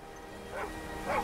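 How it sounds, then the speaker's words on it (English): A dog in Skyrim gives two short muffled barks about half a second apart, set under a steady game background hum. "Which dog is that?"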